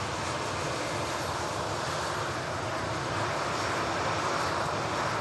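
A SunExpress airliner on the runway at Manchester Airport, a loud continuous broadband jet engine roar that holds steady throughout without pause, close by, with no voices.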